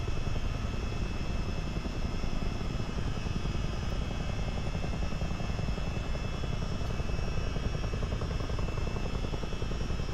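A CH-47D tandem-rotor helicopter flies in a flight simulator during a Great Lakes tour, its engines and rotors making a loud, unbroken drone with a steady rapid thump throughout.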